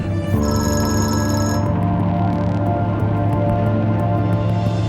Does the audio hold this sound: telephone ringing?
yes